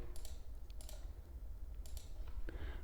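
Fingers tap on a computer keyboard in short, scattered clusters of quiet clicks separated by brief pauses, faint and close against a low background hum.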